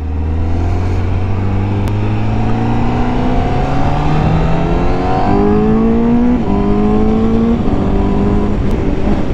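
A 2020 Honda CBR 1000 RRR SP Fireblade engine revs up loudly through several gear changes, pitch climbing repeatedly, with a couple of sharp exhaust pops near the start and end.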